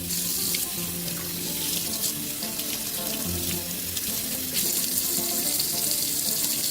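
Tap water runs steadily into a sink while a collector's Barbie doll's curly hair is rinsed, a continuous close splashing stream with slight shifts as the hair moves under the flow.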